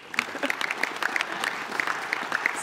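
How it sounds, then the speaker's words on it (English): Audience applause at a Crypto Summit 2018 fireside chat on blockchain, greeting two speakers from San Francisco: a steady, dense patter of many hands clapping from a mid-sized crowd, even and sustained throughout. "Please give them applause."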